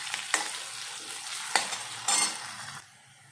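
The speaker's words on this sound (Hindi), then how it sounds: "प्याज को हमें गोल्डन रेड कलर का होने तक पकाना है।" Chopped onion fries in oil for a spiced potato curry, a steady close sizzle broken by a few sharp scraping stirs of a spoon against the pan.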